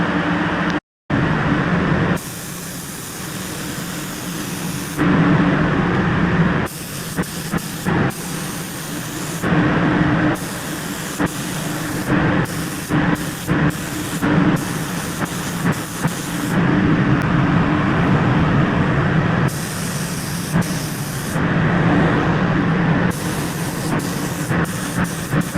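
Spray gun laying clear coat onto a Mini Cooper front bumper: loud close hissing bursts of air and paint, stopping and restarting in passes of a few seconds each with brief gaps between them.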